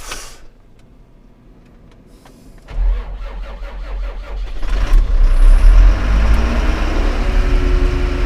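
A Dnipro 350 combine harvester engine starts: quiet at first with small knocks, then the starter catches and the diesel swells into a loud, close, steady low roar that keeps running.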